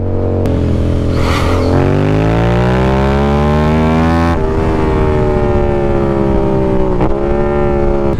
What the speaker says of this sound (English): I'm getting good wheelies, I just can't fucking hold them.